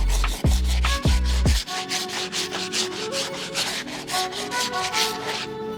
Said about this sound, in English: grab our stiff bristle brush and take care of these outsoles